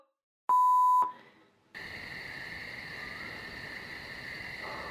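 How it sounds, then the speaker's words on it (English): A single loud electronic answering machine beep lasting about half a second, then a short hiss, followed by steady line noise with a faint high-pitched tone. "at the sound of the beep, leave your message for Jemima, Holly, and Durango."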